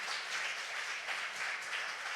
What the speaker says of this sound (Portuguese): Você pode dar uma linda salva de palmas para Jesus?